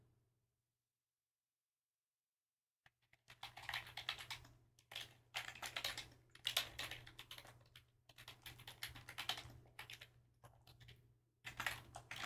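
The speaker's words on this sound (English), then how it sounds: "I'm typing these letters, but they're not coming out" Typing on a computer keyboard after a few seconds of silence, quick bursts of clicking keystrokes in irregular runs with short pauses, quiet and close over a faint steady hum, no talk.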